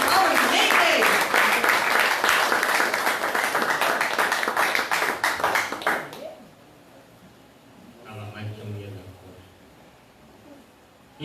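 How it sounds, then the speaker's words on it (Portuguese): A church congregation claps loudly for about six seconds, with rhythmic claps audible in the mix, then it cuts off abruptly into near silence, followed by a short low hum and faint voices. "Vamos aplaudir o Senhor em nome de Jesus?"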